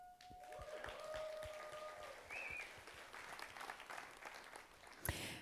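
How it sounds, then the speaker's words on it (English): Audience applause at a talk on war's impact on nature and animals in Ukraine, moderate clapping rising early then holding steady before a sharp knock near the end. "Please applause"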